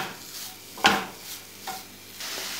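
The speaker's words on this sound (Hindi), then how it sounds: "हम इसमें ये नारियल डालेंगे, हम इसमें गुड़ डालेंगे, हम इसमें घी मिलाएंगे, हम इन सबको अच्छे से" Coconut, jaggery and ghee are stirred together in a pan, soft scraping strokes over a low sizzle with one sharper scrape of the spoon, close and quiet.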